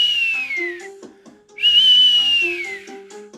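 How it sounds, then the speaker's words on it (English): A small whistle sounds twice, each a loud, near, falling tone lasting about a second, with a short pause between them and no talking. "Bet you guys hate that little whistle."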